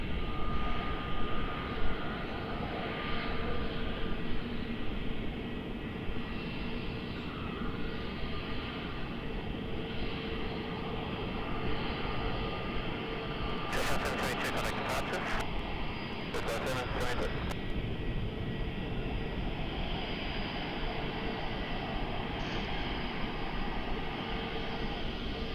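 Jetstar Boeing 777-200 airliner departing Melbourne Airport for Adelaide, a steady broad jet roar running throughout at moderate level, with brief sharp clattering bursts partway through.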